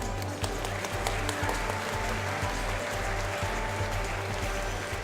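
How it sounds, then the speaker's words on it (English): Steady, dense applause from an audience at a Rotary district installation ceremony, continuous and fairly loud throughout with a low hum underneath. "Ladies and gentlemen, please give them another round of applause."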